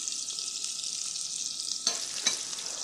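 Two large onions, finely sliced, sizzle steadily in hot oil in a pan with bitter gourd, a constant close hiss with a couple of brief clinks from stirring near the end.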